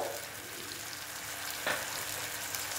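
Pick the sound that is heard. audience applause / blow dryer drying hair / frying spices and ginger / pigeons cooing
frying spices and ginger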